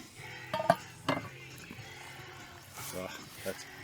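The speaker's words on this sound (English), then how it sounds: "First pop of the lid on the camp oven and give her a stir." Bush stew is stirred in a cast-iron camp oven outdoors after the lid comes off, with a couple of sharp metallic clanks early, then soft scraping and a faint simmer under a man's speech.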